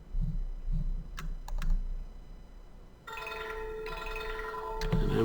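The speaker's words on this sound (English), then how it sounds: "And I'm getting a phone call" An incoming phone call ringing in a quiet room, a sustained electronic ringtone starting partway through and continuing to the end, preceded by a few light clicks.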